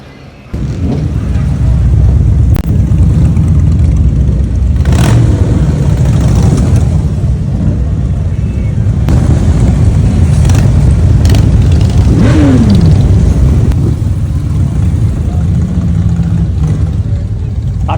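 Motorcycles of every kind rolling in and revving at Biketoberfest, a steady loud drone of engines with rising rev passes and crowd chatter mixed throughout.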